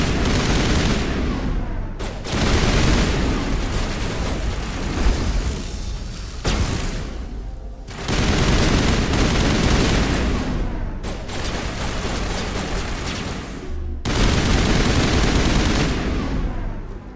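Heavy gunfire in a Mass Effect firefight, dense bursts of automatic shots and booms in long loud stretches broken by brief pauses.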